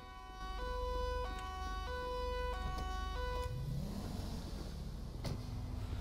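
A police siren in the FiveM video game wails with a steady, loud tone over a constant engine drone, its pitch stepping between two levels before it breaks up into broadband road noise near the end.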